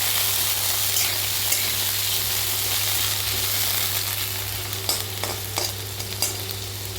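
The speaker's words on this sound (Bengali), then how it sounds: "এরপরে ওলটাও ভেজে নেব লাল লাল করে ভেজে।" Chunks of elephant foot yam fry in hot oil with a steady, dense sizzle, a low hum underneath and a few sharp clicks and pops near the end.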